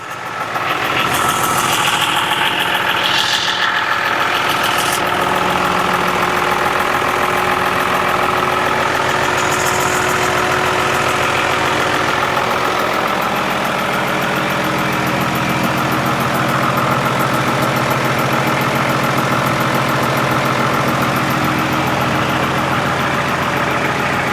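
Isuzu Rocky 195 truck engine running steadily close by, a continuous loud diesel rumble with slight swells from light accelerator taps and an audible exhaust note, with no talking.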